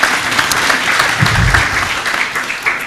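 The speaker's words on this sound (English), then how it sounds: "Let's clap for him." Sustained, dense applause from a conference audience at a polytechnic research conference opening ceremony, honouring the chief guest; steady and fairly loud throughout, with no voices rising above the clapping.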